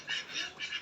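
Domestic ducks quacking nearby while waiting to be fed rice, three short nasal quacks in a quick series, moderately faint.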